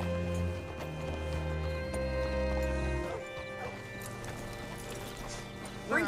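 Horse hooves clip-clopping in Red Dead Redemption 2, a soft, uneven patter of steps mixed with game ambience and a low background hum, moderately faint with no talk.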